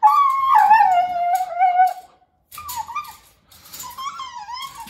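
A husky-mastiff mix dog howls and whines in long, wavering, rising and falling cries, three drawn-out calls separated by short pauses, close and fairly loud.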